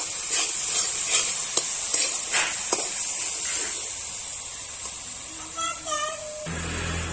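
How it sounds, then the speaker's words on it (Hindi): Spices and a spoon of turmeric fry in a hot, smoking pan for a Chhattisgarhi breakfast, with a steady sizzle and repeated scraping stir strokes, then a brief warbling tone and a low hum near the end. "हम बढ़िया से भून लेबो।"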